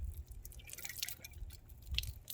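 Old coolant drips and trickles out of a removed, rusty S10 heater core as it is poured out, a faint wet dribbling with a few splashy drops and no talking.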